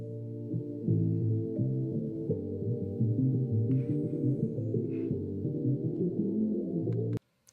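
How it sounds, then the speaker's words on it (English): A beat sample dismantled to sound underwater and then drenched in reverb: muffled, low, throbbing tones that sustain steadily for about seven seconds, then cut off abruptly. "Completely dismantled the sample. Basically sounds like it's underwater now."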